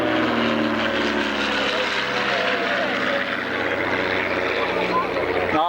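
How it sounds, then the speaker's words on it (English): A Royal Air Force night attack aircraft flying past at an air show, its loud, steady engine roar filling the whole stretch with a broad, sustained drone while people talk over it. "Beautiful looking aeroplane, that."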